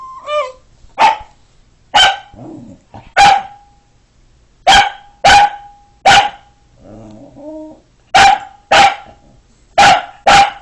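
A dog barks repeatedly in sharp, loud bursts, some in quick pairs, with brief whimpering sounds between them.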